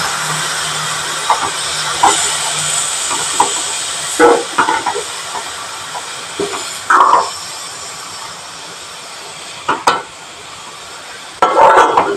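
Beetroot being stirred and cooked in a covered pan, with a steady steamy hiss running throughout and intermittent scraping stir strokes rising over it, close by.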